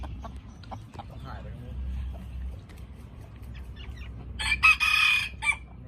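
A young Thai fighting rooster of Lao Lampang lineage clucks faintly, then lets out one loud, close crow near the end, after a stretch of speech.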